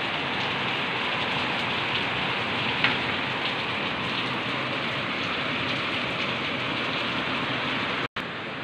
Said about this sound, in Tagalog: Ang lakas ng ulan dito.